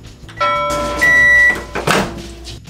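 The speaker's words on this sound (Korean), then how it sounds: "전자레인지에 5분 돌려주면" A microwave oven heats a nacho pizza topped with tomato spaghetti sauce, pizza cheese and cheddar, giving a steady tonal hum with a faint whine, then a short clunk near the end.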